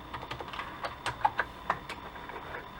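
Keys tapped on a computer keyboard while a size value is entered, a dozen or so light, uneven clicks in quick bursts, close and quiet with no talk.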